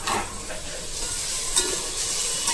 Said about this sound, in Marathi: ती ग्रेव्ही बनवली ती टाकायची आहे आपल्याला.